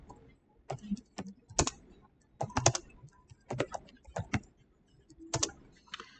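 Computer keyboard typing comes in irregular bursts of crisp, close keystrokes with short pauses between groups, like code being entered for a Python programming lesson.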